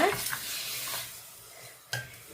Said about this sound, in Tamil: இப்போ இதை வந்து நாங்கள் நல்லா மிக்ஸ் பண்ணி கொள்ளுவோம்